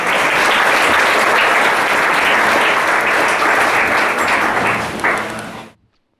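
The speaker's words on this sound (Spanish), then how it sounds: "Denos un fuerte aplauso" A church congregation gives a loud, dense round of applause during a worship service. It holds steady for about five seconds, then stops abruptly.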